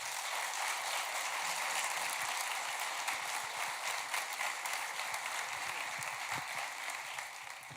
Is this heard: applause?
yes